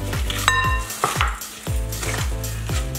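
Potato and minced beef filling for chops is mixed by hand in a metal bowl, giving repeated metallic scrapes and clinks in an uneven rhythm, close up, with no talking.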